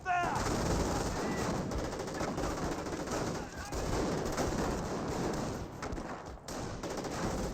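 Company of Heroes 1 battle with steady, overlapping rifle and machine gun fire crackling at mid distance, a continuous busy fusillade with short bursts and a narrator speaking over it.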